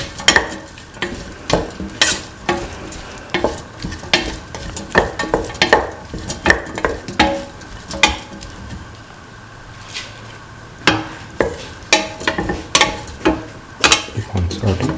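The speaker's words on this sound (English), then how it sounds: "Keep on sauteing." Tomato pieces sauté in a pan with a steady sizzle, punctuated by frequent sharp scrapes and clacks of a stirring utensil against the pan.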